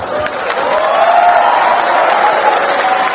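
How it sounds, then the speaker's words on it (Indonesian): Brief burst of applause and crowd murmur from a student audience at a presidential candidate's campus Q&A in Pontianak, loud and close, a steady wash of clapping mixed with chatter and voices. "Tepuk tangan dong."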